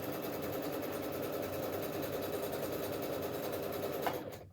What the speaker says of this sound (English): a nice sewing machine like this